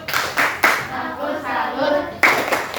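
Children in an Indonesian fifth-grade primary class clap together in short rhythmic bursts, loud and close, with a pause of chanting voices between the clapping.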